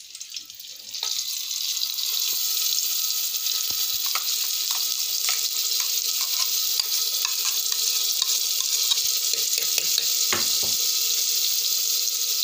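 Garlic, onion and masala paste frying and being stirred in a clay pot, a steady loud sizzle throughout with scattered scraping clicks from the spoon, no voices.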